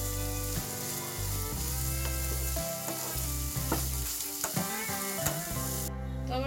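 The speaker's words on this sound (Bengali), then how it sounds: "এটা দিয়ে আমি জাস্ট 1 মিনিট নাড়াচাড়া করে নেব।" Cashews and raisins stir-fried in a pan for fried rice, a steady sizzle with scattered clicks and scrapes of stirring, close and moderately quiet, under background music with sustained tones, with no talking.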